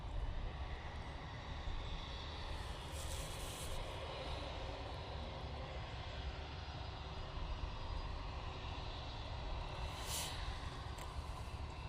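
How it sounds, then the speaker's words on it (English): An Etihad airliner moves around Manchester Airport, producing a steady, broad jet-engine rumble that holds at an even level throughout with no talking. "I can see the Etihad making its way from behind the tower."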